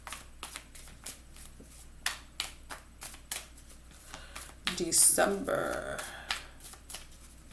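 Tarot cards being shuffled and picked out by hand, a rapid run of close riffling flicks with a louder burst near the end, under steady talking from a woman.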